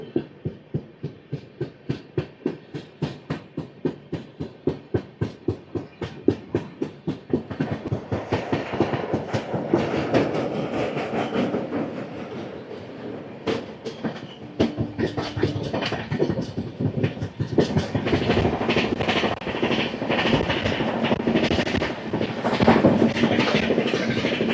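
The Gowthami Superfast Express races past Chebrolu station, its wheels beating a fast steady clickety-clack over rail joints that speeds into a dense roaring rumble, heard loud from onboard.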